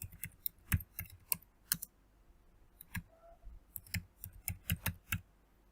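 Keys on a computer keyboard are tapped in short, quiet bursts of crisp clicks, with a pause in the middle and a final run of quick keystrokes, close and faint in a still room.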